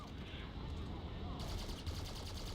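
Rapid machine-gun bursts rattle in War Thunder gameplay, quick repeated shots growing denser in the second half, with a background of game noise.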